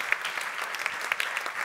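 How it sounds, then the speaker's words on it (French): Gala evening audience giving warm applause for a guest author, a brief burst of dense, even clapping filling the room. "Quelques applaudissements encore chaleureux pour Bernard Werber."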